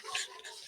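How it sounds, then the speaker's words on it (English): A dog gives one short, faint yip or bark, heard far off in a quiet room. "So can you hear my dog barking?"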